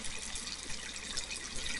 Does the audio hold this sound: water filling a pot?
yes